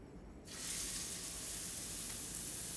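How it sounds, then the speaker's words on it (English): Steady, loud sizzling and hissing of steak frying in a hot pan, starting abruptly after a short quiet moment and continuing without pause. "That was a good sizzle."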